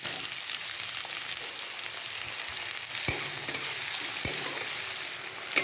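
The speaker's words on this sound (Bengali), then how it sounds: "এবার আমি পেঁয়াজ কুচিগুলো দিয়ে দেবো" Chopped onions fry in hot oil in a pan after chopped garlic has browned, a steady dense sizzle lasting throughout with a couple of sharp clicks from the spoon, no talking.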